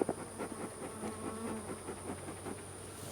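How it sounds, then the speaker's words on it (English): Dense, steady drone of many honey bees at an opened hive, a continuous low hum with a high hiss layered over it, fairly close and unbroken, with no talk. "Sounds like we've got lots of bees in this one."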